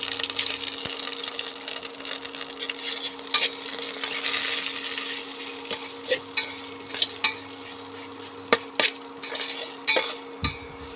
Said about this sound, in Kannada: ಜೀರಿಗೆದು ಘಮ ಬರುತ್ತೆ, ಅಲ್ಲಿವರೆಗೂ ಹುರಿಬೇಕು.